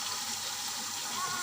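Water poured by the glass into a pot of soaked rice for Eid biryani makes a steady, close splashing gush.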